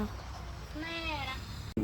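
A single rising-and-falling cat meow, clear and close, over a murmur of background talk and room noise, followed by a sharp knock.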